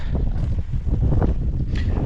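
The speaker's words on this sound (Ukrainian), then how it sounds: "Ой, вітер такий." Steady, heavy wind buffets the microphone with a constant low rumble and gusty roar throughout, outdoors while planting tomato seedlings.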